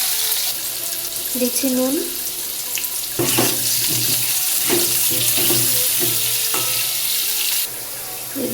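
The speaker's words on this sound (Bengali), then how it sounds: "আলুটা ভেজে নিচ্ছি।" Potatoes fry in hot oil in a home kitchen while a vegetarian cauliflower and paneer curry is being made, giving a steady, close sizzling hiss with brief clinks, under a voice speaking.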